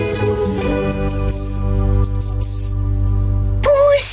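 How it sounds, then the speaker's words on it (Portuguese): Bright, high chirps come in short warbling bursts over a sustained musical background, like a cartoon bird tweeting repeatedly. "Mas, Emma, você é um pássaro."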